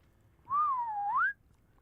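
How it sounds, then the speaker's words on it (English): One short whistle from a person, a single clear tone that dips and then rises, heard alone against a faint background. "I did whistle one the second time."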